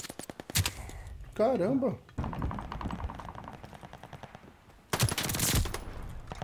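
Bursts of gunfire in the video game Call of Duty Vanguard, loud clustered volleys near the start and again toward the end, with players talking between and over the shots.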